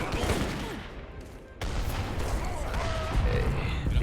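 Battle din from Age of Empires III, with cannon blasts and volleys of musket gunfire that sound loud and continuous, a sharper burst arriving partway through and a steady, crowded clash of shots and booms throughout.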